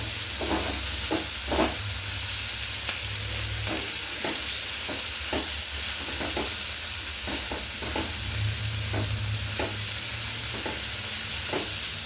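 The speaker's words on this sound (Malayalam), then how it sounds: "സവാള വാടി വരുന്നുണ്ട്. കുറച്ചും കൂടി നന്നായിട്ട് ഒന്ന് വാടട്ടെ." Sliced onions sizzle in a pan for chicken curry while a spoon stirs them, giving a steady fry under a dozen or so distinct scraping knocks spread through the clip, close and with no voices.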